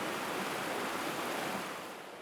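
A river flows at a distance as a faint, steady rushing hiss of water, easing slightly toward the end, with no voices.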